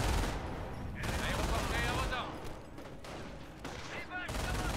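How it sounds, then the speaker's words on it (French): Gunfire in the Company of Heroes video game, a night attack, comes as rattling bursts of rifle and machine-gun fire with booming rumble beneath, fairly loud and continuous, while voices speak over it. "Il nous tire dessus."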